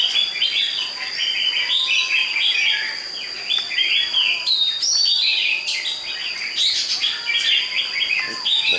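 A red-whiskered bulbul sings in a bright, continuous run of chirps and warbling phrases, close and loud, with faint insect buzz beneath and no voices.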